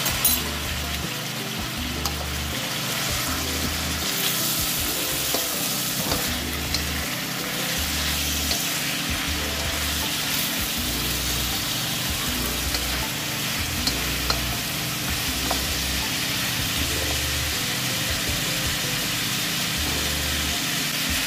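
Chinese cooking wine hits hot oil in a pan with beef ribs for a stew, a continuous loud close sizzle with steady frying crackle and faint stirring scrapes underneath.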